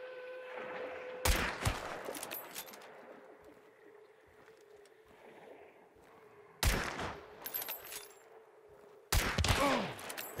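Three sharp bursts of gunfire in the video game Hunt: Showdown, each a loud crack with a brief tail, spaced apart over a quiet swampy ambience with faint bird calls.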